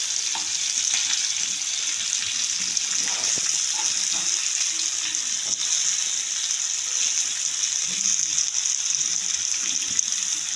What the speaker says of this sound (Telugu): ముందు కాస్త ఫ్రై చేసుకోవాలి. మీడియం ఫ్లేమ్ పైన పెట్టుకొని ఫ్రై చేసుకోవాలి.